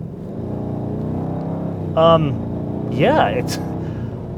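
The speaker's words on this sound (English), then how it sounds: "let's put our foot into it" Bentley Mulsanne Extended Wheelbase limousine, over 3.5 tons and around 500 horsepower, pulling hard with a deep steady engine drone from inside the cabin while someone talks briefly over it.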